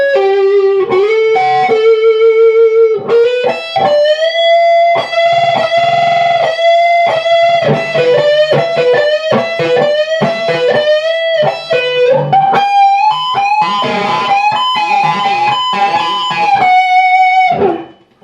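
A loud, distorted electric guitar plays the lead from a song. Sustained, bent notes and quick runs continue alone for about eighteen seconds before ending abruptly.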